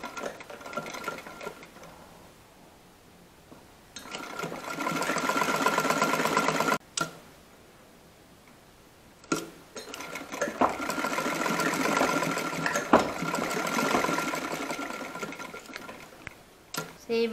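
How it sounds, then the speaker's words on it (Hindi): Sewing machine stitching a suit sleeve in a ladies' tailoring setting, running in several steady bursts of a few seconds each, separated by short pauses, fairly close and loud with no talking over it. "जहाँ पे ये निशान लगाए थे वहाँ पे हम सिलाई लगा देंगे।"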